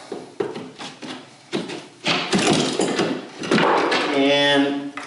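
Carpet being pried up from a floor with a Wonder Bar pry bar: irregular creaks, scrapes and tearing pulls in close bursts, growing louder and denser toward the end with a strained squeaky tone.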